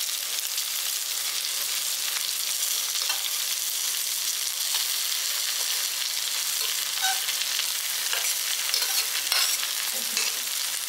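A spoon scrapes and stirs rice mixed with pepper and garlic masala in a hot pan, making a steady close sizzle under soft, irregular scraping strokes.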